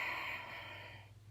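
Exaggerated, heavy belly breathing in a single long breath, close and alone, with a soft airy rush that fades toward the end.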